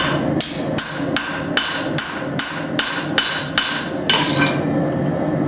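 A hammer forges a steel knife blade with eight evenly spaced, ringing blows about half a second apart, close and loud. A brief rougher scraping noise follows.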